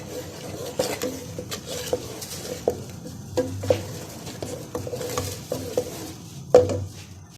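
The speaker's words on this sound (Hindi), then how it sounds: "अब इसको अच्छे तरीके से मिक्स करते हैं" A spoon scrapes and taps around the inside of a pot of white chickpea curry with spices, at a loose, irregular pace, with light clinks and soft sizzling underneath.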